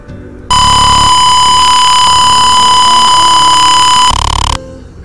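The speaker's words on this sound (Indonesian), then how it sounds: "akan berbunyi seperti saat pembacaan pertama tadi. Buzzer berbunyi" Steady, loud electronic buzzer tone from a Tinkercad Arduino gas-warning simulation, a continuous piercing alarm lasting about four seconds alone before cutting off.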